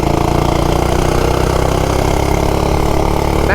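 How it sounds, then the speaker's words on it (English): Small engine of a cheap Amazon mini bike running loud and close, a steady rapid chugging idle with dense low rumble throughout, no voices. "It always starts first pull for some reason."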